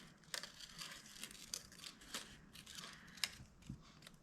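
Scissors snipping freehand through paper to cut out several circles for ornaments, a series of short crisp cuts and light paper rustles at an irregular rhythm, close and fairly quiet.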